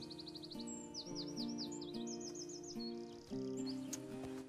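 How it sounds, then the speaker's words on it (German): Repeated bird chirps and short tweeting calls in The Quarry, a horror video game, ringing out clearly in quick bursts over a steady low musical drone, with no talking. "Es war nur ein Vogel."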